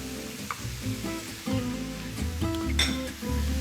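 Beef and garlic sizzle and fry steadily in a pan for a beef chili, with occasional stirring scrapes and light clinks of a utensil against the pan.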